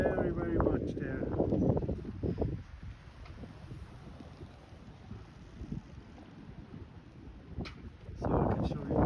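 Heavy wind rumbles and buffets the microphone while storm waves surge and churn into the harbor of Calafell, loudest at the start and again near the end, with a voice briefly in between.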